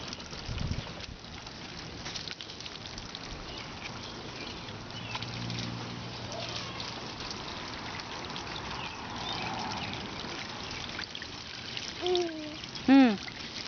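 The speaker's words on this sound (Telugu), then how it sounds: "నీ బండి కడుక్కుంటున్నావా?" Water trickles and splashes while a child's motorbike is being washed, a faint intermittent dribbling and patter heard close by, with voices speaking at times over it.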